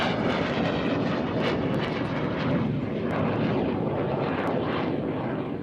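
A small airplane touching down at the Kemble airshow, its engine a steady broadband roar close by, loud and constant throughout, with no voices.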